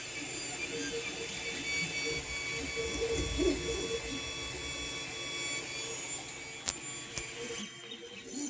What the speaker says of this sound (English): It's going to start doing our individual outlines.